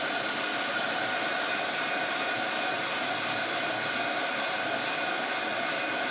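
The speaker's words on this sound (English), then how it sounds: "let's see if this works to dry it faster." A hair dryer blows on a napkin keychain with a loud, constant, close roaring whoosh that holds steady throughout, without talk.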